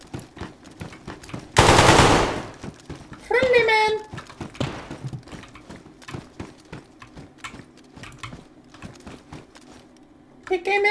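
Gunfire in a video game: a loud, dense burst of shots in the middle, with scattered shots and impacts around it. Players talk over the action throughout.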